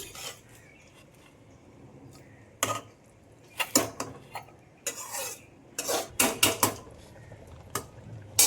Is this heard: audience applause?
no